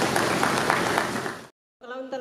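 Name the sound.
audience applause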